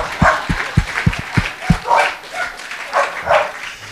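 A dog barks repeatedly and close by on a street, a quick run of sharp barks followed by a few more spaced out, with mixed outdoor noise behind.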